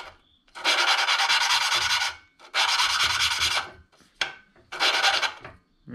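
Snowblower engine valve lapped by hand with a suction cup tool, gritty rhythmic scraping strokes in four close bursts with short pauses between them, nearby and fairly loud with no talking.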